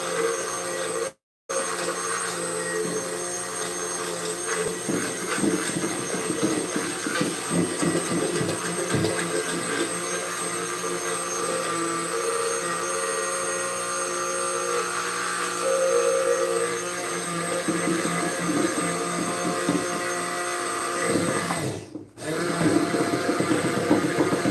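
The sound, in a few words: immersion blender making mayonnaise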